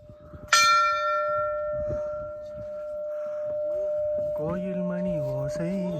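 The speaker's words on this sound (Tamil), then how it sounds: "கோயில் மணி ஓசை தனி கேட்டதாரோ." A temple bell at a hilltop Shiva shrine is struck once with a sharp clang, its bright metallic tone ringing on and slowly decaying, while a person begins singing over the fading hum.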